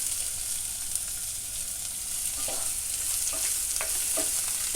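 Sliced onions with salt frying in a pot for vegetable stew, a steady close sizzle with soft scraping stirs toward the end and no voices.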